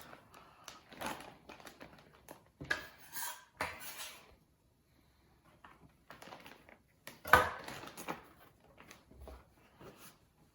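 Utensils clink and scrape against a bowl while chicken is mixed into a Sprite marinade, irregular bursts of metallic clatter separated by short quiet gaps, close and fairly loud.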